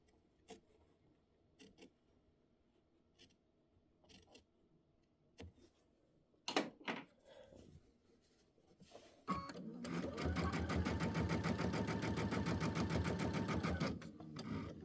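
A sewing machine stitches a quilt border in a steady, fast, loud mechanical whir for about four seconds. It follows a stretch of soft clicks and handling noises.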